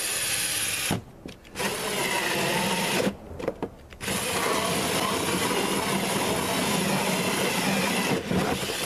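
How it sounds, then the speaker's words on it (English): A power drill boring a hole through a plastic sump pit liner, where a 4-inch perforated drain pipe will attach; a loud, steady whine runs almost continuously, broken by two short pauses and a brief dip near the end. "Let's go ahead and drill this hole."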